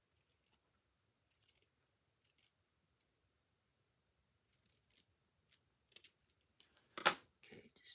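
Scissors trim the extra fabric off joined quilt binding ends: a few soft, scattered snips, then one sharp, louder cut followed by quick closing snips.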